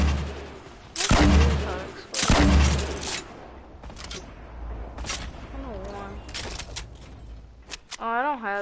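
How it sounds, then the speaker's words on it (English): Grenade blasts and gunfire in Fortnite gameplay, with two loud booming explosions close together followed by scattered shots and game effects; a voice talks faintly beneath. "I'm just gonna get this grenade off"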